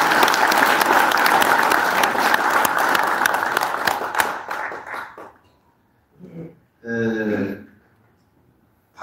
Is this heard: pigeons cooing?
no